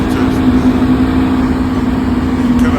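Cooling fan of a 2022–2025 Hyundai Elantra N running after the car is parked, a steady loud whir with a constant hum and a low rumble, continuous and close with no voices.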